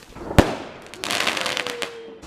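Small fountain fireworks set off outdoors on Bonfire Night: one sharp pop, then a steady hissing, crackling spray that fizzes for over a second nearby. No one speaks.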